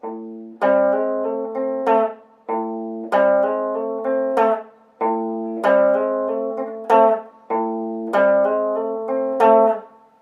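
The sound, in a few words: electric guitar riff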